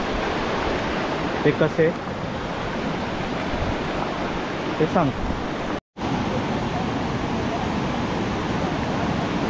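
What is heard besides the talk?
stream water flowing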